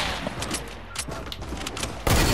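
Fortnite gunfire crackles in a dense stream of quick shots at moderate level, ending in a louder burst, with no speech over it.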